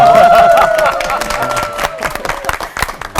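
A church audience claps along in a steady, rhythmic beat, the crisp hand claps growing more distinct after a voice and a sustained tone fade at the start.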